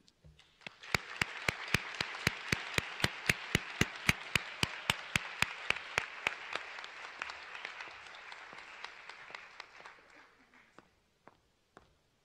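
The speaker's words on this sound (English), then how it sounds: "let us all have a final round of applause and celebration" A ceremony audience at an honors college medallion event applauds in steady claps that build, hold for several seconds, then thin out to a few scattered final claps.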